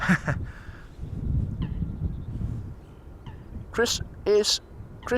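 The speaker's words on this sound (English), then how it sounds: "whatever it is you call the sound that coots are making. I call it quacking." Coots call from near a live airport watch spot, several short honking, quacking bursts standing out late against a steady low rumble of background noise.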